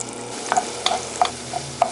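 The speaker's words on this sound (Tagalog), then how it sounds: "Pag nalulusaw na po ang margarine, pwede na po natin ilagay ang ating bawang." Finely chopped garlic fries in melted margarine, a close, even sizzle punctuated by about five quick utensil scrapes against the pan, with no speech.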